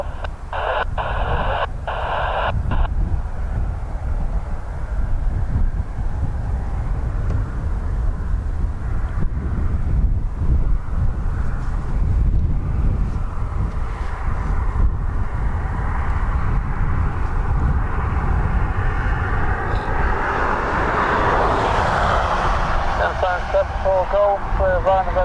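An Antonov AN-26B turboprop departing Dublin Airport: a broad, steady engine roar builds throughout, rising in pitch toward the end as the aircraft accelerates, with radio-style chatter and clicks heard at the start.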